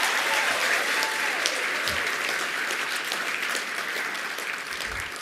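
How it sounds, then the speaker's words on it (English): Audience applause for a safety tech inspection team at an awards ceremony: steady, dense clapping from a crowd that carries on throughout, fairly loud and even, with no talk over it. "if we could do like 4 or 5 claps for the Safety Tech Inspection Team"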